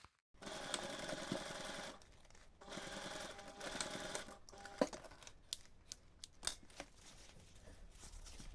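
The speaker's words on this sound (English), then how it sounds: "take this to the sewing machine and again sew the seam in 2 steps" A sewing machine stitches a seam on a fabric bag lining gusset in two bursts of steady whirring, followed by scattered clicks and handling sounds, all faint and close.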